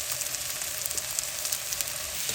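Roughly cut tomatoes hiss and crackle as they drop into a pan of frying onions and ginger garlic paste for butter chicken, a steady dense sizzle with small popping bursts, close and loud, no voices.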